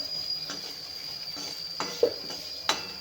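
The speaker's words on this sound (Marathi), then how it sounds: "आलं पण आपल्याला छान भाजून घ्यायचं आहे आलं आहे थोडासा लसण हे पण तेलामध्ये छान आपल्याला भाजून घ्यायचे" Ginger, dal and chillies roasting in hot oil in a pan, with a soft continuous sizzle, a few light stirring and utensil clinks, and a steady high whine in the background.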